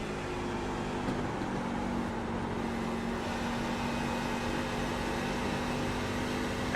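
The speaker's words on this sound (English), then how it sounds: "You can hear him kind of ease on the throttle." Race truck engine in a Wagoner's Welding Truck Series race at Nashville, a steady droning hum as the driver eases on the throttle out of turn 2, continuous and fairly loud with no voices.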